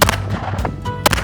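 A single sharp gunshot rings out close by from a handgun fitted with an upgraded Spec trigger, followed by a brief echo and a second fainter crack.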